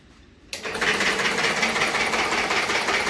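A nylon rubber band making machine switches on abruptly after a quiet start, then runs with a loud, steady mechanical rattle and hiss that continues to the end.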